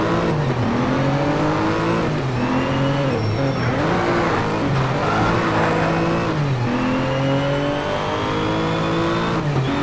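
A Porsche race car in the video game Need for Speed Shift revs hard through repeated rising gear pulls, a loud, continuous engine whine climbing and dropping as it shifts up through the gears.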